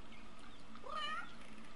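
A single drawn-out cat meow from The Sims 3, rising then falling, heard once over a steady hiss of game background noise.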